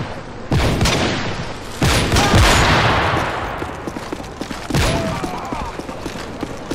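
Gunfire in a sniper-rifle-only video game match, with several sharp loud shot blasts and booming reports spaced across the stretch, each trailing into a ringing decay.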